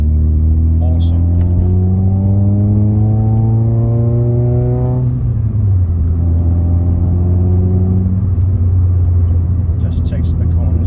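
A small car with only electric windows as an extra drives along a narrow small road, its steady engine drone shifting pitch as it changes gear midway, loud and continuous throughout.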